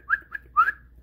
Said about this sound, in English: So, yes, I can whistle.